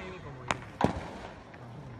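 Two sharp firework bangs go off about a third of a second apart, the second louder and crackling, followed by quiet ambient noise, at the Iruka Beach fireworks festival in Kawana, Ito, Shizuoka.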